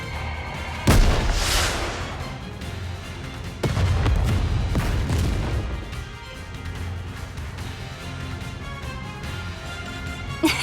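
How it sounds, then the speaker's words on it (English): A big flame explosion in the Nikke video game erupts with a sharp boom, followed by a second heavy blast and rolling, crackling rumble that slowly fades. "What an explosion!"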